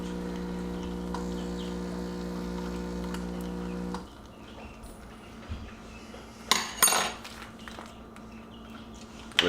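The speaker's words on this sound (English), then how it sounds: "I usually use a little straw just to kind of stir in the chocolate" A small straw stirs chocolate into espresso from a Mattinata Mattino CM 1662 machine. A steady machine hum runs at first, then brief light clinks and taps sound near the cup.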